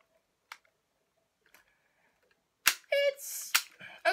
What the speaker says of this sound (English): you have to cock the gun